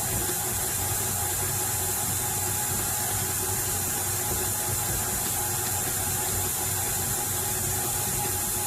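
An electric mixer creams butter and sugar for a vanilla cake, producing a steady, loud, continuous motor whir close by with no pauses or voices.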